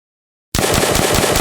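Full-auto weapon fire in an Unreal Engine C++ Nazi Zombies game, starting abruptly after half a second of silence into a loud, rapid, evenly spaced burst of shots.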